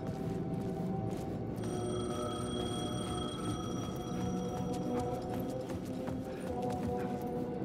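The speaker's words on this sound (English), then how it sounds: "The payphone was ringing." A payphone rings in Alan Wake II, a sustained electronic ring running for several seconds over a dense, steady game background.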